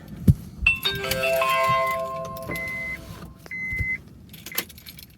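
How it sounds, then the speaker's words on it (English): A truck's ignition key is turned, setting off a run of electronic chime tones and a soft click, with no engine starting and no voices. "So we'll just flick the key."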